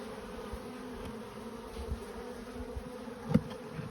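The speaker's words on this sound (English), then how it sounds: "But look at the bees I have here." Honey bees, lost and without a hive, forage on sunflowers and hum in a steady low drone throughout, faint and continuous, with one brief closer buzz passing near the end.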